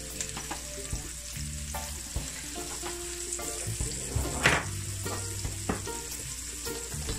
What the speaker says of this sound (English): I'm gonna go in with a little bit of turmeric. I'm gonna burn it in the oil.